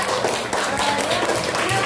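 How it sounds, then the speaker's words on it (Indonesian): A classroom of students clapping for a classmate, a brief burst of dense, overlapping applause at moderate volume. "Tepuk tangan untuk teman kita"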